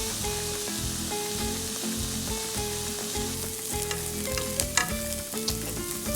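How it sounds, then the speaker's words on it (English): Onions and peppers sizzle steadily in a pan over medium-high heat, a close, continuous frying hiss with occasional stirring scrapes and no voices. "Let those sizzle for a while."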